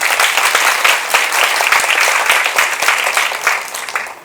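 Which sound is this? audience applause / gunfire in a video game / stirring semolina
audience applause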